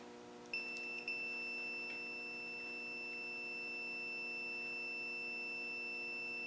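Multimeter on its continuity sounder setting, a steady high electronic tone that starts with a couple of brief clicks and then holds unbroken over a faint hum, close and with no talk.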